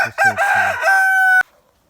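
A Barbezieux or Liven chicken rooster gives one loud, close crow, a rising stuttered start drawn into a long sustained note that cuts off sharply, followed by silence.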